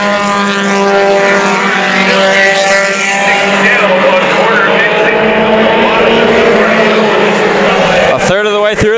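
Several mini stock race cars battle around the Havasu 95 Speedway oval, a loud, continuous, layered engine roar with overlapping drones from the pack, cut short abruptly at the end.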